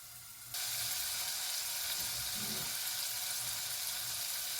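Vegetables sweat in a hot pan as Huevos Rancheros is prepared, giving a steady broadband sizzle that starts softly and rises to a constant, close hiss after half a second, with a faint stir near the middle.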